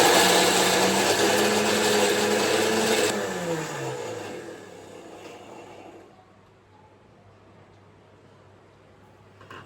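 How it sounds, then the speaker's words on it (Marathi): A kitchen mixer grinder blends a yogurt chutney for fasting dosa, running loud and steady, then winding down and stopping partway through, leaving quiet room tone. "आणि आता हे सगळं मिक्सरमध्ये टाकतो."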